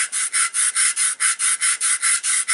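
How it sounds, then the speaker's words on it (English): Sandpaper rasps across the surface of a pot turkey call in about a dozen quick, even back-and-forth strokes, close and loud with no talking. "I'll take the sandpaper at the top, about the top 1/3, go in the same direction."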